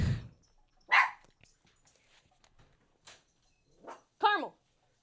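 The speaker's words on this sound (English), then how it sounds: "my dog is barking in the background" A dog barks a few times at close range in a house, sharp separate barks with pauses between them, one a higher yip near the end, alongside a person speaking.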